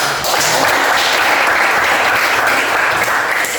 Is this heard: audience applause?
yes